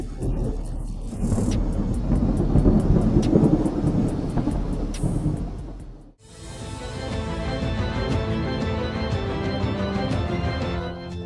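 Thunder rumbles through a thunderstorm, a loud, long rolling roar over steady rain, then a brief drop before rain and rumble resume, no talk.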